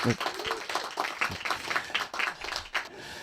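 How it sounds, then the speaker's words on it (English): Audience applause rises at a family storytelling performance, a dense patter of clapping mixed with a speaking voice throughout. "That always solicits applause."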